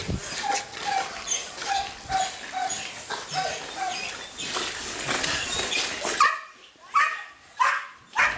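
A mine detection dog in training barks and yips repeatedly in short bursts, fairly near, with some whimpering and background activity and no speech.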